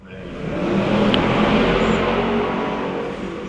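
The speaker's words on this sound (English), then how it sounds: "That was definitely not a Chinese vehicle passing by." A car passes on a road, a broad engine and tyre roar swelling in over the first half second and holding steady and loud, then easing slightly as it goes by.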